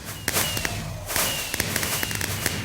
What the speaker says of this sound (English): so these bees create fireworks